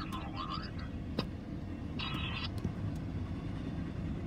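A Norfolk Southern intermodal freight train carrying trailers, with two mid-train DPUs, rolls past at night as a steady low rumble, with a few faint clanks and some brief high tones over it.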